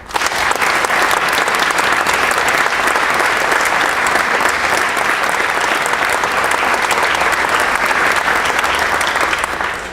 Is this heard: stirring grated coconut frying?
no